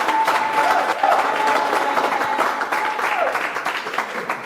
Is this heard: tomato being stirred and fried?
no